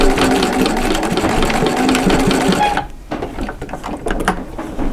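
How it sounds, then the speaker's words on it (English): A sewing machine stitches slowly through several thick layers of fabric for a fabric catch-all caddy, a steady loud mechanical whir that cuts off near the three-second mark and gives way to quieter handling noises. "you're going through a lot of fabric, so just have to take it slow with your machine"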